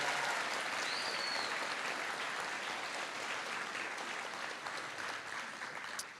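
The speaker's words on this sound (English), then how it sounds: "Special thanks and another quick round of applause for Gabrielle Fontaine for putting that video together." A graduation ceremony audience gives a round of applause, a dense, even field of clapping heard from within the crowd that holds steady and tapers slightly near the end.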